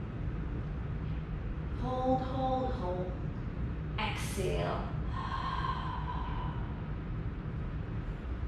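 A deep breath during a mat Pilates exercise: a voice is heard, then a long, forceful breathy exhale rushes out near the microphone over a steady hum, followed by a faint trailing voice.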